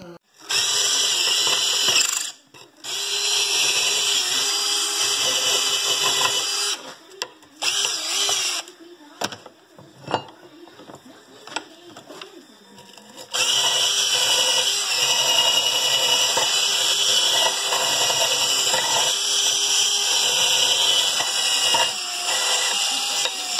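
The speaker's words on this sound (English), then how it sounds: "I'm going to get a wire wheel in there or a brush and clean this up" A wire wheel on a power tool whines loudly while cleaning Polaris Sportsman u-joint yokes, running in long sustained bursts broken by short stops and clatter, then a long continuous stretch.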